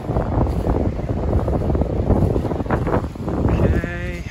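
Ewes bleat in a windy field on a sheep farm during breeding season, with one clear bleat near the end standing out over heavy wind buffeting the microphone.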